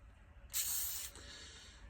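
WD-40 is sprayed onto a metal part in a single close burst of aerosol hiss lasting just over half a second, set against a quiet low hum.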